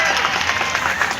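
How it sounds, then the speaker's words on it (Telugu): A crowd applauds at a public foundation-stone ceremony for an indoor stadium, a dense, steady wash of many hands clapping close by for the whole moment, with a hint of voices mixed in. "బాగుందంటే చప్పట్లు కొట్టి తెలియచేయండి."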